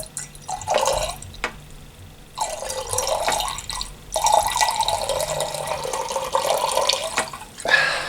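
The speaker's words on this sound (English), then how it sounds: "Do I pour a little bit more in? Yeah, let's pour a little bit more in, shall we?" Cider poured from a height into a glass, the Spanish natural sidra Petra Mora, gives bursts of splashing and trickling liquid with short pauses, close and fairly loud, with no talking.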